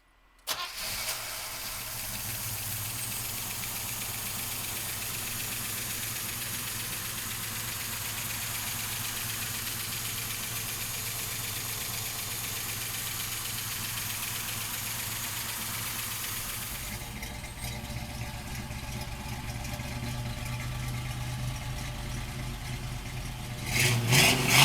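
A 1970 Chevrolet Camaro Z28 cranks and fires right away, then settles into a loud, steady idle that shifts slightly in tone partway through, with a brief rise in engine noise at the very end.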